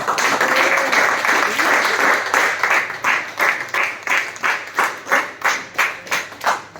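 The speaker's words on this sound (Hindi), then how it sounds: "जोरदार ताली" A crowd claps loudly, first as dense applause, then settling into rhythmic unison clapping with evenly spaced beats.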